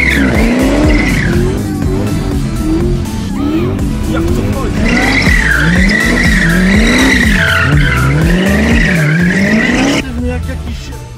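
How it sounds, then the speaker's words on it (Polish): A 1971 Dodge Challenger fitted with a Hellcat engine drifts sideways, its tires squealing and skidding loudly in long wavering screeches under a roaring engine, with people talking over it. "powiedział, że mam latać bokiem tym samochodem"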